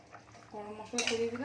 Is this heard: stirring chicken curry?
yes